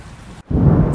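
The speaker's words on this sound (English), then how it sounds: "Suddenly, thunder and lightning struck the bus" A thunderstorm breaks with rain falling steadily, a brief hush, then a loud, close rumble of thunder rolling over the downpour.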